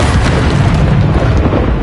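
In Hogwarts Legacy, a Bombarda spell detonates as a loud, close, sustained blast, a dense rumbling boom that fills the whole stretch with no speech over it.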